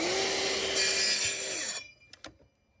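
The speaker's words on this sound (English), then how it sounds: "Now when it comes time to using the track saw" A track saw cuts through wood in a 100-year-old house, a loud high motor whine with rasping blade bite that winds down abruptly, followed by a couple of faint knocks.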